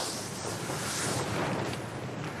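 Wind blows at a lakeside campsite in Gironde, France, as a steady broadband rush that buffets the microphone throughout with no voices present.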